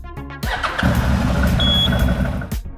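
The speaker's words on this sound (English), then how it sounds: "Push the green engine start button on the left side of the handlebar." A starter motor cranks briefly, then a CFMOTO CForce ATV engine catches and settles into a steady idle close by.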